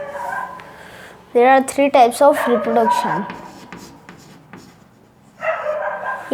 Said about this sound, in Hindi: ये कुत्ते भौंकने की आवाज मेरे कान खराब कर